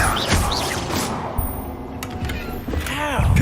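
An Incendio fire spell is cast in the Hogwarts Legacy video game, with sharp, crackling bursts and clattering effects amid a busy game soundscape, and a voice cries out near the end.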